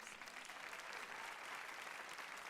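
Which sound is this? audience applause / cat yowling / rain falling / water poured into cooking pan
audience applause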